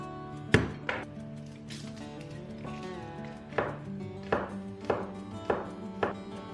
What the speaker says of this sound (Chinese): 蒜头切成丁